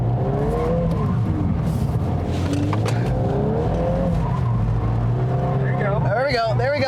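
A 2022 Volkswagen Golf R hot hatch drifting, its engine droning loudly with rising and falling revs and tire squeal near the end, while people talk over it.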